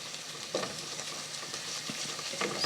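Garlic and onions sizzle in a pot for Swahili pilau while a spoon stirs them, giving a soft, steady frying hiss broken by light scraping and knocks; no speech.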